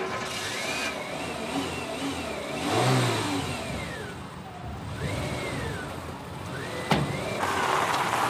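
A red Renault Twingo small car pulls away with its engine revving up and rising in pitch several times, heard from nearby under a rough, steady background rumble, with a sharp knock near the end.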